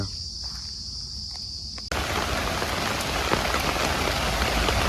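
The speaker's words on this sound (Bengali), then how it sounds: "ঝড় বৃষ্টি চলছে চলবে" Steady storm rain pours down in a village, starting quieter then abruptly growing into a loud, dense wash of drops hitting surfaces, with faint insect chirps beneath.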